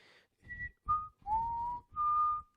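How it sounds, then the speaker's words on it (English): A person whistles a short melody at close range, five clear tones in a row with one long held note in the middle, over faint low background noise. "you're going to have to deal with my whistling"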